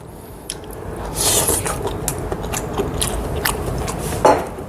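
Someone bites into a wild red scallop dipped in chojang sauce, producing close, moist chewing and soft squishy crunches over a few seconds, with no talking.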